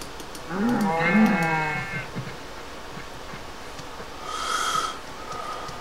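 A cow in the game Minecraft lets out one loud, close, drawn-out moo, followed by quieter game sounds, including a brief higher-pitched effect.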